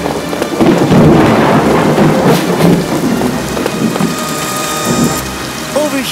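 A loud crack and rumble of thunder rolls over steady pouring rain, the rain pattering on as the thunder fades.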